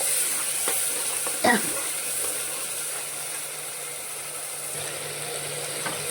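A ginger, garlic, chili, coriander and tomato paste is mixed in a hot pan, giving a steady low sizzle with a few sharp spoon scrapes against the metal and no talking.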